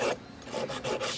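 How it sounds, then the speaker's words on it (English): Hand file working a small cast gold pendant, a few short rasping strokes in quick succession, close and fairly quiet. "and then a bit of filing"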